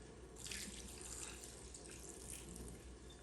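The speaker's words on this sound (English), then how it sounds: "Let me drain some of that water out." Water pours from a cooking pot into a kitchen sink, a steady rushing splash against the basin that stays even for a few seconds, close but fairly quiet.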